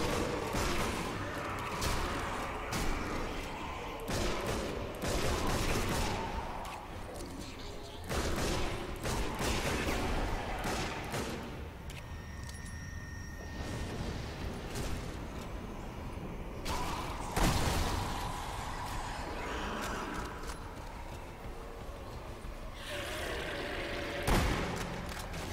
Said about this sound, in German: 2 Meter Entfernung und ich schieß daneben.